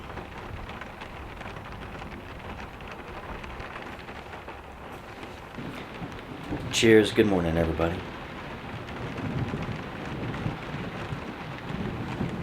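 Heavy rain falls steadily at a cabin camp during a storm, with a rumble of thunder partway through, while a person speaks briefly over it.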